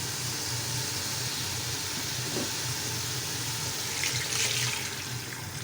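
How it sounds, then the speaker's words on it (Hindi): Two cups of water pour into a pot of soaked rice for chicken tikka biryani, a steady hissing splash under a low kitchen hum, with a brighter gush near the end. "अब इसमें पानी डालेंगे 2 कप"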